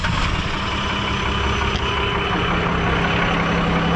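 A hotshot truck's turbocharged engine runs at a loud, steady idle, with a continuous rumble and no talking over it.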